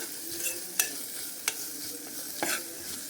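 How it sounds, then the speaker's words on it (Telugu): Ginger garlic paste frying with green chillies in a pan, a soft steady sizzle broken by a few sharp clicks of a spoon against the pan, close and moderately quiet with no talking. "ఇందులో చూడండి ఫ్రెండ్స్ ఒక స్పూన్ అల్లం వెల్లుల్లి పేస్ట్ అయితే వేసాను పచ్చివాసన పోయేంత వరకు వేపుకొని"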